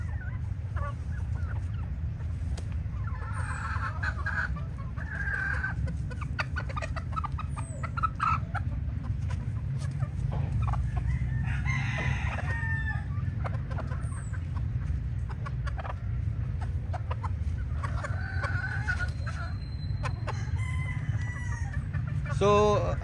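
Young hens selected as breeding pullets cluck and chatter in a poultry yard, with intermittent calls over a constant low background hum and a rooster crowing now and then, while someone talks at times.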